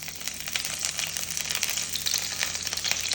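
Curry leaves frying in hot coconut oil, a bright dense crackling sizzle that spits steadily and loudly up close, with no voices over it.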